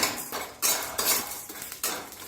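Whole spices and dried chillies are dry roasted in a pan, with repeated metallic scrapes and rattles from stirring and a faint dry sizzle underneath.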